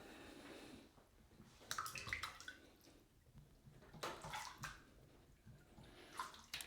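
Water splashes and drips in soft bursts, fingers scooping it into a sausage casing and letting it run off, quiet and close with pauses between the sloshes.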